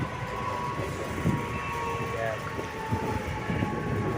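A train running from Panvel toward Mumbai gives a continuous rumbling roar with faint rhythmic rattles, heard steadily from on board.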